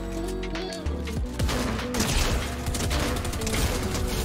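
Pump shotgun fire in an online shooter game, loud bursts of gunfire stacked over a busy, dense game mix with several sharp blasts across the few seconds.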